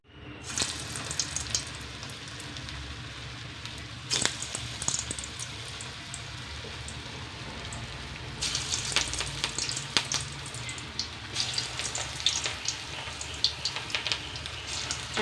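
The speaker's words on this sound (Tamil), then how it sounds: "இப்போ பொரித்து எடுப்போம்." Yam kola balls deep fry in hot oil with a steady, moderately faint bubbling sizzle and a few sharper crackles and spoon taps.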